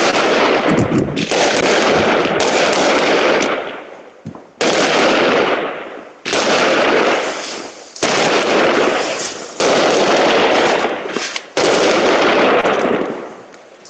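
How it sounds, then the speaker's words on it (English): New Year's fireworks go off outside in long dense bursts of rapid crackling and popping, loud and continuous, broken by short pauses between volleys. "Because I don't think those people are going to quit soon with those fireworks."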